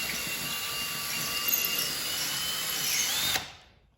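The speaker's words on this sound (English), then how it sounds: "I'll drill a hole through the drywall" A power drill whirs loudly and steadily, grinding through drywall, then cuts off near the end and the sound fades to quiet.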